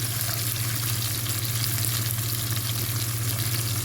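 Ingredients for a moringa (drumstick) leaves dish fry in a pan, a dense continuous sizzle heard close and steady with no voices.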